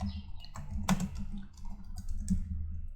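Rapid keystrokes tap on a computer keyboard, a short close burst of clicks over a low steady background hum.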